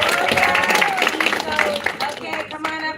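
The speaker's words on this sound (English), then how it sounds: "Let's clap for Tessa." An audience at a parallel event on daughters as change agents applauds steadily, a close, busy patter of claps with voices mixed in, fading slightly toward the end.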